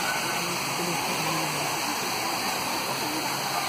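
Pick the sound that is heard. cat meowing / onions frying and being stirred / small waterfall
small waterfall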